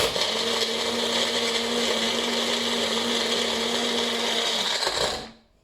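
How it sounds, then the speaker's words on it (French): A blender runs steadily for about five seconds, mixing aloe into a granita, with a loud, constant whirring motor hum that stops abruptly at the end. "Puis, on passe le tout au mixeur, au blender plutôt."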